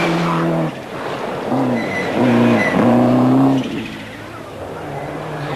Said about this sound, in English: A steady and sensible drive from Duncan Jaffrey.